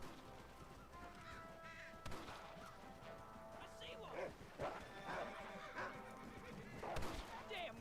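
Horse neighs and whinnies in Red Dead Redemption, repeated calls rising over a busy game soundscape with birds and scattered thuds, moderately loud and mixed with speech.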